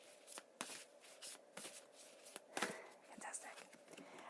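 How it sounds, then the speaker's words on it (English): Tarot cards being shuffled in quick rhythmic riffles and flicks, close and crisp, with soft whispering beneath. "while I'm shuffling the cards"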